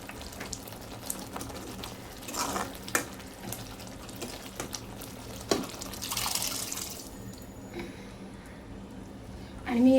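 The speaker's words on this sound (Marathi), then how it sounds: "जे कुकरला छोले शिजायला लावलेले तेच पाणी ॲड केलं" Cooking water from boiled chickpeas pours into a pot on a gas stove, a steady watery splashing with a few louder clinks and surges, close by and alone.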